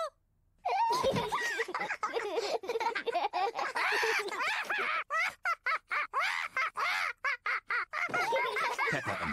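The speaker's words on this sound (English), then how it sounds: "Peppa and George are really enjoying playing with Polly Parrot" A cartoon parrot, Polly Parrot from Peppa Pig, squawks and chatters in a voiced, choppy run of calls, with giggly laughter mixed in.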